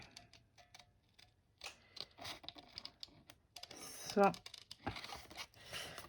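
Scissors snipping and paper rustling as a paper Happy Halloween embellishment is cut out, a run of small close crinkles and ticks, rising to a busier stretch of cutting near the end.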